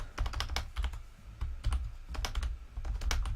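Rapid, irregular key clicks from a computer keyboard, typed up close in bursts with brief pauses, each stroke crisp and distinct, no voices.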